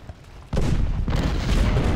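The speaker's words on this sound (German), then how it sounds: "Ja, ihre Kanonen schießen auf unsere Position." Cannon fire from Civil War artillery in the strategy game Ultimate General: Civil War, a sudden loud booming burst after a quiet start, then sustained rumbling volleys continuing to the end.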